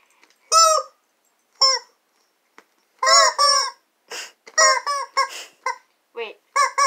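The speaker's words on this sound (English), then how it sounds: "So now, I have rubber chickens." Rubber chickens squeezed repeatedly, giving loud, nasal, honking squawks in short bursts of varying length, close and clear over near silence.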